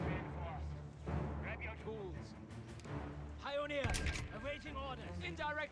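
Mortar and artillery shells burst in a Company of Heroes 3 World War II strategy match, repeated booming impacts and gunfire beneath continuous commentary, with one louder blast near the middle.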